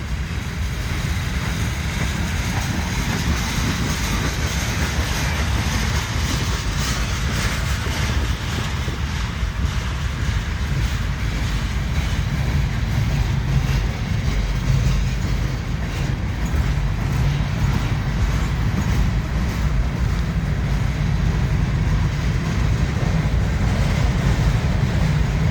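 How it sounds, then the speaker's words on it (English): A train rolls past at Wartrace, Tennessee in a long, steady rumble with heavy wind buffeting the microphone, loud and unbroken throughout. "very awesome train here at Wartrace,"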